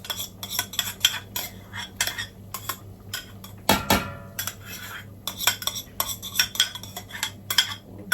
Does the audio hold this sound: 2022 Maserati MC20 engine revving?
no